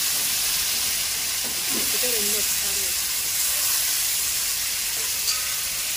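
Cut raw banana pieces hit hot oil in a pan for an Andhra-style curry, setting off a loud, steady broadband sizzle that hisses on throughout, with a brief voice murmuring under it.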